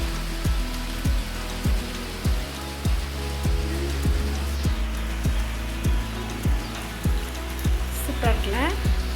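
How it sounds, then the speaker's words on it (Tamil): Heavy summer rain falls in a steady, loud hiss, with a regular low thumping repeating beneath it and faint sounds near the end. "இந்த மழை டேஞ்சர்."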